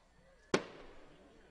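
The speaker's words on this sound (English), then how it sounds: "Now these are fireworks, we can tell you, because I just saw one beyond the right field fence" Fireworks bursting beyond the right field fence at a summer college baseball game, one sharp sudden boom that decays into a rumbling tail over crowd noise.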